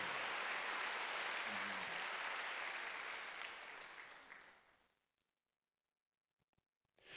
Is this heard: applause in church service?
yes